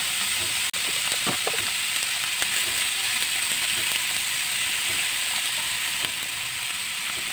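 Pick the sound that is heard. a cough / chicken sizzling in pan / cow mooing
chicken sizzling in pan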